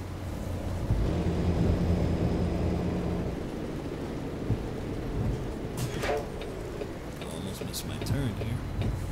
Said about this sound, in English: it's starting to rain harder and harder